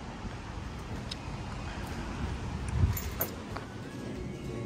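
Car driving along a road, a steady close rumble of engine and tyre noise throughout with a slight swell near the middle.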